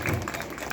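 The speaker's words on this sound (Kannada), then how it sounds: "ಇವರಿಗೆ ದೊಡ್ಡ ಚಪ್ಪಾಳೆ ಸ್ಪೆಷಲ್ ಆಗಿ." Brief burst of audience applause for young Bharatanatyam dance students, loud and close, with a little crowd noise mixed in.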